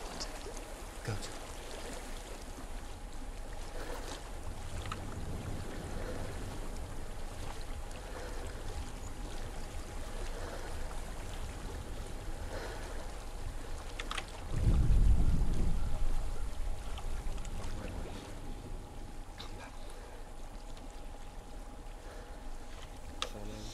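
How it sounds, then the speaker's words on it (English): Steady broadband rush of flowing water in the video game Hellblade: Senua's Sacrifice, a continuous ambient wash with a low swell partway through; no talking over it. "I hear water."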